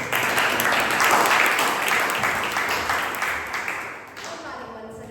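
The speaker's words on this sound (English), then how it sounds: "Please give a round of applause." Members at a Toastmasters club meeting applaud as the grammarian is introduced, a modest round of clapping that swells briefly and then fades out within a few seconds.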